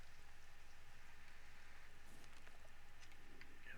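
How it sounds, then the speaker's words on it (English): Rain in Conan Exiles, a faint, even hiss of falling drops with a low rumbling ambience underneath and a few scattered patters toward the end, no voices. "And we're already getting into the rain."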